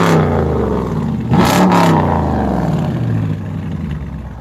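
Dodge Challenger R/T with Flowmaster Super 44 mid mufflers, its exhaust rumbling at idle then revved once sharply, a loud, close burble rising and falling back to a deep steady idle.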